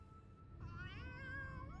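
A cat meows in the Final Fantasy XIV: Heavensward game, a single faint, drawn-out wavering mew rising and falling over quiet low background sound, with no talk.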